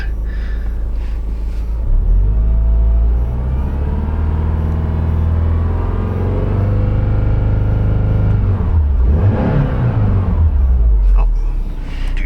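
A cold Subaru engine idles steadily as it warms up with an intermittent check-engine light, a continuous low rumble heard close by, with a brief rise in revs near the end.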